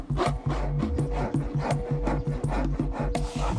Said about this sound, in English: He cuts the shell about a quarter of the way in and scrapes out any debris left over.